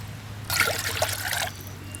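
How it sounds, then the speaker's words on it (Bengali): A short burst of water pours and trickles into a pan on the stove for about a second over a low steady hum, with no talking. "চুলায় একটা প্যান বসিয়ে দিয়েছি আর দিয়ে দিচ্ছি দুই কাপ পানি"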